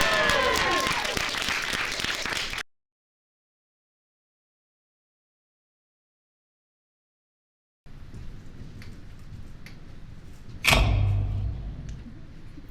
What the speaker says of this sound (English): let's give a warm round of applause for Harrison.